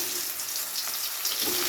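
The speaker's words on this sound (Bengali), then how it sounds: "এবারে পটলগুলোকে ভেজে নেব" Pointed gourd (potol) pieces frying in hot salted oil give a steady, soft, broadband crackle and hiss that runs evenly throughout at moderate level, with no speech.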